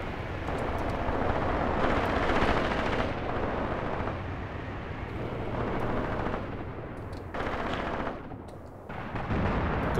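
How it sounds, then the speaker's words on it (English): Artillery shelling a forest in Graviteam Tactics: Mius Front, a continuous dense rumble of distant blasts and gunfire that swells and dips without pause for the full stretch. "The artillery mission here into this forest is still ongoing, so I still cannot send the units across."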